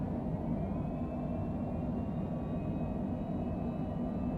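Airliner thrust reversers roaring during landing in Microsoft Flight Simulator, a dense continuous low rumble with a faint high whine, steady and even throughout.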